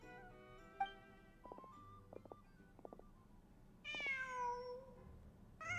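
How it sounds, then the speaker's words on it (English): A cat meows in the video game Genshin Impact, with a few short tonal chirps followed by a drawn-out, fairly loud meow and the start of another over a quiet background. "Wow. Just a cat."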